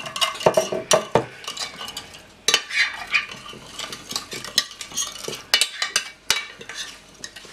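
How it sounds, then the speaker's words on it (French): Spoon stirring a marinade with pepper and salt in a bowl, close and fairly quiet scraping and clinking in irregular strokes with short pauses between them. "je vais mélanger un peu tout ça"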